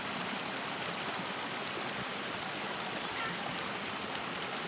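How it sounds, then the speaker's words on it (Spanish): Buckets of water are thrown over a pickup truck being washed in Santa María Temascalapa, Hidalgo, Mexico, giving a continuous rushing splash of water that stays steady and fairly close, with no voices. "Y aquí ya le van a echar un buen baño a la camioneta."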